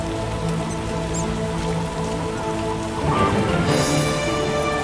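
Heavy downpour of rain pattering steadily on surfaces, a dense, continuous hiss that swells louder and brighter near the end, with no voices.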